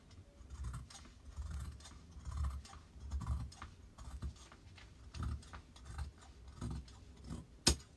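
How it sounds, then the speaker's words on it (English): Scissors cut through fabric along a drawn pattern line for a sewn jumpsuit, giving a run of soft, uneven snips and rustles close by, with a sharper click near the end. "now I'm going to go and cut on the line that I drew"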